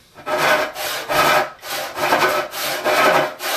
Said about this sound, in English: So once I have it started, you can see with a sharp saw, I'm already 1 inch in.